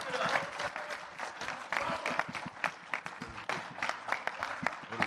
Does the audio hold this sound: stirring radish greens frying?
no